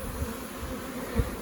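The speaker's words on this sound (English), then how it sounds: "there's bees going in and out" Honeybees flying around the entrance of a backyard hive produce a soft, continuous close buzzing with a couple of louder passes as single bees fly near, and no voices.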